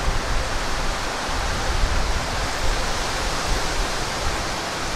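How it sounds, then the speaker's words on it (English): A mountain creek in Cedar Breaks flowing over rocks, a steady, loud, broadband rush of water close by with no voices. "I just love how this stream looks going through these rocks here"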